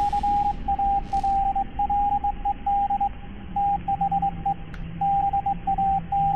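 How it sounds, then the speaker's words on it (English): Steady Morse code beeping from a radio in the Escape the Backrooms video game, a single tone pulsing in short and long bursts with irregular gaps over a constant hum, loud and continuous throughout. "someone translate this Morse code in the comments"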